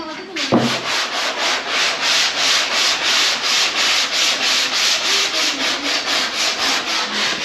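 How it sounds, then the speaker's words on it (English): Steady rhythmic hand sanding of guide coat on a 1967 Camaro body, a rasping back-and-forth scrub repeating about three times a second, close and continuous after a brief knock at the start. "So the guide coat will come off with the sanding."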